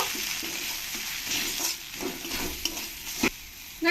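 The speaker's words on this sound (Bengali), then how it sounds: "এবার এর মধ্যে দিয়ে দেবো গুঁড়ো মশলা লঙ্কার গুঁড়ো দিয়ে ভালো করে আমি কষিয়ে নেব" Chili powder and ground spices fry with mushrooms in a pan for mushroom masala: a steady, close sizzle with soft stirring scrapes, ending in a few sharp clinks of the utensil.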